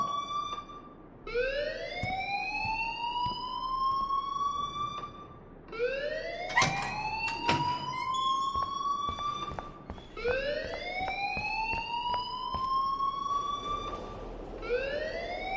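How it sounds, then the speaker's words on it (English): School alarm in Life is Strange wailing in repeated rising sweeps, three long cycles each climbing in pitch, loud and insistent with a sharp clatter in the middle. "please turn off that alarm since that's your job"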